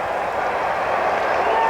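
A baseball stadium crowd at Shea Stadium during a Pirates–Mets game, a steady broad roar of many voices and applause, sustained and fairly loud throughout with no clear peaks.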